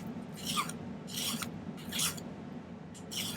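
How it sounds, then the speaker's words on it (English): A metal file rasps silver wire to make it narrower in about five separate short strokes. The strokes are quiet and close, with a low steady hum underneath. "it's going to take quite a bit of filing"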